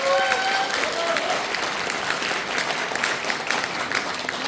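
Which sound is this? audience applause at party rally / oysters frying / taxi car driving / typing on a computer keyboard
audience applause at party rally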